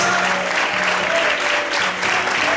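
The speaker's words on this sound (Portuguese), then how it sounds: "levanta a mão e adore e aplauda ao Senhor nessa noite, em nome de Jesus." A church congregation applauding during an evening service, loud continuous clapping that fills the room at an even level, with a faint tonal hum beneath it.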